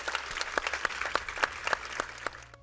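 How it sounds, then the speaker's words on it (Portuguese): A small audience of women at a formal bar association ceremony gives a round of applause, a short burst of distinct individual claps that thins out and fades. "E eu queria pedir a todas vocês uma salva de palmas a todas nós."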